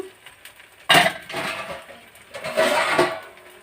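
A lid goes onto a cooking pan of uttapam with a sudden metallic clank, followed by rattling and a second clatter of metal and cookware shortly after, fairly close and with no talking.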